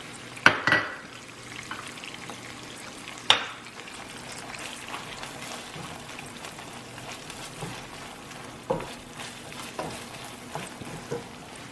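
Ground beef and potatoes frying in a pan, a soft continuous sizzle broken by a few sharp clinks and scrapes of a utensil against the pan.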